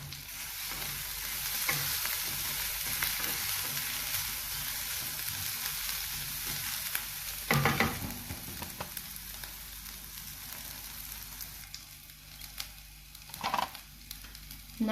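Mixed vegetables and sweet corn saute with onions in a pan, giving a steady bright sizzle. A couple of louder scraping bursts from stirring cut through, with no talking.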